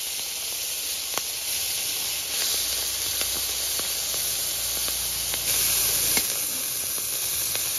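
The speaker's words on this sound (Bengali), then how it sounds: "চিংড়ি মাছ ভাজার জন্য কড়াইয়ে তেল দেব।" Prawns fry in hot oil in a wok, giving a continuous sizzling hiss with occasional sharp pops. No one speaks over it.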